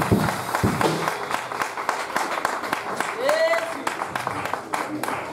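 A church congregation applauds and cheers in praise of Jesus, steady crowd clapping with shouts and voices mixed in throughout.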